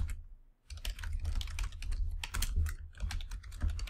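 Quick, steady typing on a computer keyboard, close and continuous with dense clicking keystrokes over a low hum, with one brief pause near the start.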